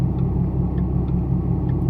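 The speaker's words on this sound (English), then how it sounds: "I'm sure you've heard the rumble in the background. That's basically my car. Drive a 2014 Mustang." A modified 2014 Ford Mustang idles in the background with a steady, low engine rumble that stays constant and fairly loud throughout, with no talk over it.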